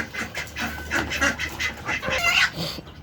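Ducks quacking repeatedly at close range on a farm with chickens, a busy chorus of overlapping nasal calls from several birds.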